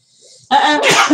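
A single sharp, close sneeze: a soft intake of breath, then a loud explosive burst lasting under a second, with no talking.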